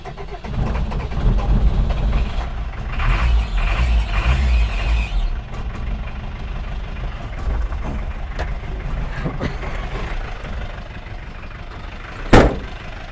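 A Peugeot 404 pickup's engine cold-starts and settles into a rough, uneven idle, a steady low rumble running throughout with a sharp knock near the end.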